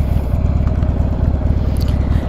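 A motorcycle engine idles close by on a rural rustic road in Pine River, Wisconsin, giving a loud, steady low rumble with an even pulsing throb throughout.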